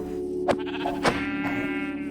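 Sheep bleating in a Minecraft datapack game, two clear bleats about half a second apart over a steady tonal background, close and moderately loud with no talk.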